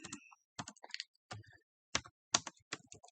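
Typing on a computer keyboard while making labels, a handful of quick, close key clicks in short bursts separated by brief pauses, quiet and with no talking.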